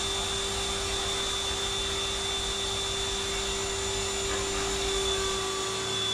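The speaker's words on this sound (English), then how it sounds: "A vacuum cleaner spins out onto the floor and turns on by itself" A vacuum cleaner running steadily on a floor, a continuous loud whirring drone with a constant whine that holds unbroken throughout, with no talk.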